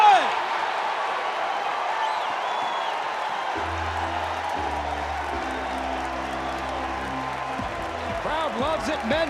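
Baseball stadium crowd at a college game cheering and applauding after a double play, a broad sustained roar with scattered whoops, while a low hum of other sound runs underneath.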